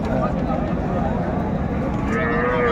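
A Sahiwal breed bull at a cattle market in Dinajpur lets out a low moo near the end, heard under loud, continuous talking and crowd noise.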